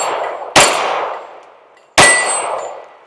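A compact metal frame S&W pistol with a ported compensator fires two loud, sharp shots about a second and a half apart, each blast ringing out and decaying into a long echo.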